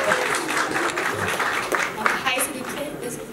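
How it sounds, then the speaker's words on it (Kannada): Audience applause in a TV studio on Bigg Boss Kannada Season 11, a steady wash of clapping held at even loudness, with a voice speaking over it. "ಒಂದು ಚಪ್ಪಾಳೆ"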